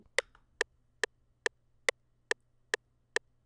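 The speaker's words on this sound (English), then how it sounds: "for the intro, it is going to be 4 bars of just the FL metronome" FL Studio's metronome clicks eight times at an even, steady tempo, each tick sharp, clean and isolated against near silence.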